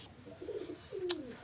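Pakistani high-flying Teddy pigeon giving two soft, close coos, with a short sharp click between them over a faint background.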